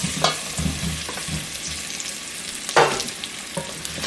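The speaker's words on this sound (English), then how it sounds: "I'm gonna add this all these potatoes in this oil and let this fry" Whole potatoes fry in oil for dum aloo, a soft steady sizzle broken by occasional louder scraping stirs and clinks of a spoon against the pan.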